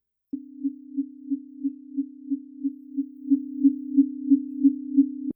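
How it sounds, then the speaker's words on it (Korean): Two pure sine tones 3 Hz apart blend into one steady low hum that swells and fades in regular beats, about three pulses per second, clean and alone. "이번엔 사인파마다 3 h z 의 차이를 가지고 있는 소리입니다"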